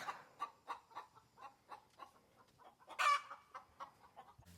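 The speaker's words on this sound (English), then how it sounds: "My goodness, chickens." Backyard chickens cluck in a quick rhythmic series of squawks, one louder burst standing out midway, fairly close against a quiet outdoor background.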